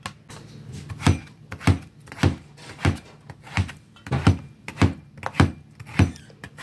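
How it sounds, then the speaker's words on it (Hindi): A knife chops peeled honeydew melon into small pieces on a cutting board, about ten evenly spaced thuds in a steady rhythm, close and clear, with no talking. "अब मैं इसको छोटे छोटे पीस करके कट कर लूंगी।"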